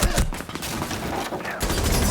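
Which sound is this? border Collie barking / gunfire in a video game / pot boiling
gunfire in a video game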